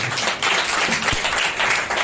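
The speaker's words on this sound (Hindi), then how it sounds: "धन्यवाद एक जोरदार ताली बजा सकते" A church congregation at a Wednesday service breaks into a short burst of loud, dense applause, with many hands clapping together close by.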